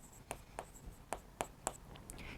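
A pen or chalk writes out a Class 10 maths solution on arithmetic progressions. There are about six quick, crisp scratches and taps close by in an uneven rhythm, with no talk.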